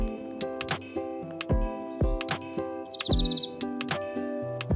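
A brief burst of rapid, high-pitched cricket chirping, pulsing for about half a second over a bright, plinking children's tune with steady beats.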